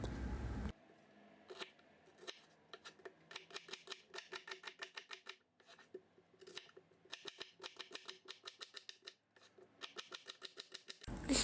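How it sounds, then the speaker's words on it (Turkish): Three dry onions chopped with a knife on a board, quick rhythmic bursts of crisp taps close by, pausing between runs of cuts. "Üç adet kuru soğanı piyazlık olacak şekilde doğrayalım."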